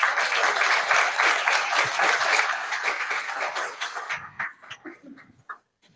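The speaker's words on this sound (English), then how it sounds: "a round of applause for our panelists." A conference audience applauds panelists at a federal challenge and prize community meeting, a dense, steady round of clapping that thins out and fades to scattered claps over the last two seconds.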